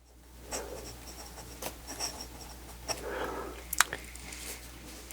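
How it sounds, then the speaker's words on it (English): Parker Jotter fountain pen writing on paper that is not meant for fountain ink, giving soft scratchy strokes and small taps in an irregular rhythm, close and quiet over a low hum. "Let's see how it writes."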